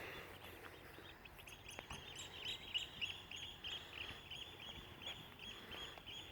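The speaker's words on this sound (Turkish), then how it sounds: "Bak bu ördek yavrusu sesleri" Faint, high chirping calls of ducklings repeat continuously against a soft background hiss, with no talking.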